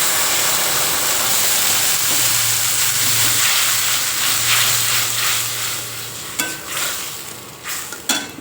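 Ground mustard and green chili paste hits hot oil with panch phoron for a tangy shrimp dish, giving a loud, steady sizzling hiss that eases off, with a few sharp utensil clinks toward the end.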